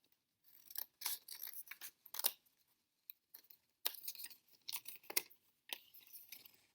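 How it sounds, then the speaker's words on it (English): Scissors snip through a piece of material in a quick series of close, crisp cuts with short pauses between them, the blades sounding sharp and clear in a quiet room. "So I am going to cut this piece all the way off, just like that."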